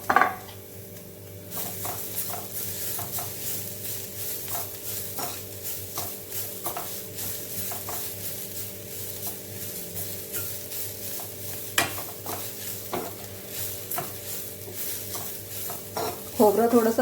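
Freshly grated coconut roasts in a pan for a spicy clam masala, a continuous close sizzle broken by regular scraping strokes of a spoon against the metal, with clinks near the start and end.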